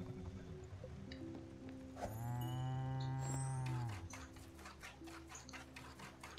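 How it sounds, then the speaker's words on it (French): A cow lows once, long and clear, in the game Spiritfarer, followed by a run of soft rhythmic ticks like milk squirting into a pail, all quiet and alone. "Je vais traire ma vache"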